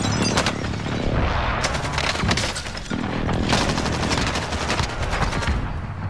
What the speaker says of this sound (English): Shots missed.